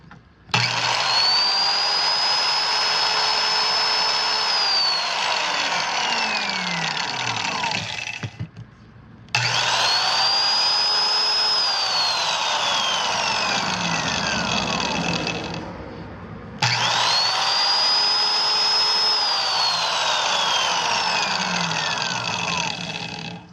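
A 1979 Rockwell No 314 Type 1 trim saw runs up to a loud, high whine three times. Each run lasts several seconds and then spins down, with short gaps between them, close to the listener.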